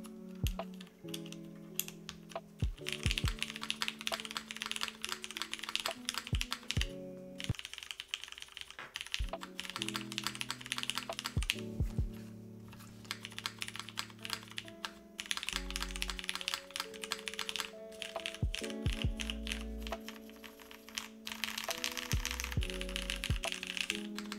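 Someone types steadily on a Quantum60 mechanical keyboard, a dense run of crisp, clacky keystrokes, close and distinct, with a few short pauses between bursts.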